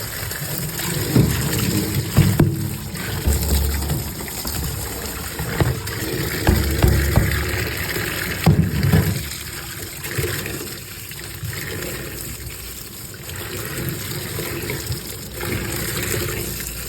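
Tap water running in a kitchen while ghetkochu (taro) leaves are washed, a continuous rushing splash with shifting gurgles and handling knocks, loud and close, easing slightly partway through, with no talking.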